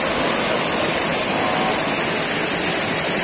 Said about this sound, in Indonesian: Nah, itu sungai ini.